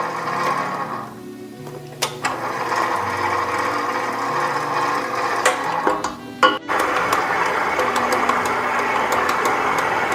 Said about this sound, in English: I'm going to allow the machine to knead my dough for 5 to 6 minutes.